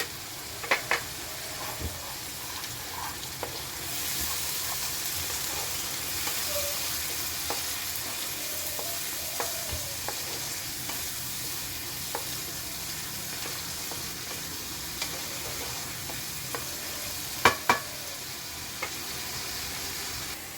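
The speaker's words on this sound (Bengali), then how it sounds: "এখন আমি এই আদা রসুন লঙ্কার পেস্টটা দিয়ে দিলাম" Ginger, garlic and chili paste sizzles and fries steadily in a hot pan while a spoon stirs, scraping and clicking against the metal at irregular intervals.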